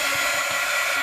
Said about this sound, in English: now I'm going to use my heat gun to dry it